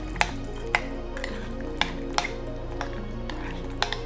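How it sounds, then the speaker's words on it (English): A spoon stirs L. reuteri yogurt mixed with unfiltered honey, clinking against the container about eight times in an uneven rhythm, close and crisp over a low steady hum. "I will give it a nice stir"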